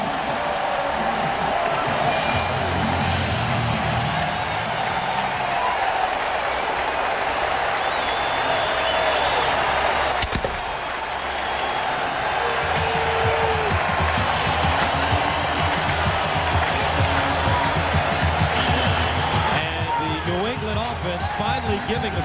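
Stadium crowd at a 1999 New England Patriots home game against the Indianapolis Colts roaring and applauding after a touchdown, a dense sustained wall of cheering with a play-by-play announcer talking over it.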